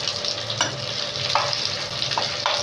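Egg and onion chili fry sizzles in hot oil while a spoon stirs and scrapes the pan in a few distinct strokes, close and steady, with no voices.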